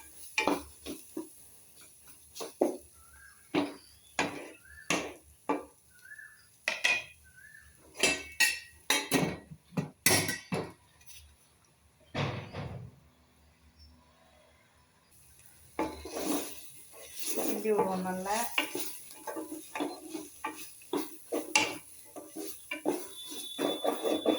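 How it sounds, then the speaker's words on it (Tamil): Cooked basmati rice is tipped into a pan with ginger and garlic and stirred for pulao, giving repeated metallic scrapes and clanks of a spoon against the pan, with a short sizzling stretch midway. "நம்ம இதில் சோறத்தை கொட்டி புலாவை பிரிப்பேர் பண்ணுவோம்"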